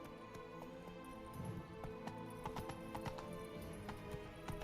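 Roach, the horse in The Witcher video game, gallops with quick, rhythmic hoofbeats. The clip-clop sits close and clear over a bed of steady sustained tones.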